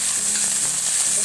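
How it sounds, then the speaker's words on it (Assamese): Onions sizzling in hot oil in a wok, a dense, steady crackle filling the short stretch at close range. "এই কেৰাহীত তেল গৰম হৈছে, আৰু ইয়াত পিঁয়াজ দিলোঁ।"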